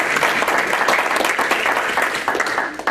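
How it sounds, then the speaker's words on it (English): Applause at a city council meeting, celebrating a council member's 46th wedding anniversary: steady, full clapping from the room throughout, fairly loud and close. "And I might say that applause was for Johnny"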